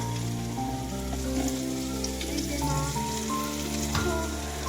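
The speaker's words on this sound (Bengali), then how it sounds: "আমার মা করছে রান্না, হচ্ছে কুমড়ো ঝিঙে ভাজা হচ্ছে" Pumpkin and ridge gourd fry in a home kitchen pan with a steady close sizzle and crackle, while sustained tonal hums sit underneath throughout.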